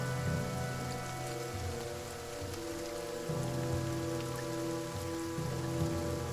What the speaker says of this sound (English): The man looks across the rainy bog.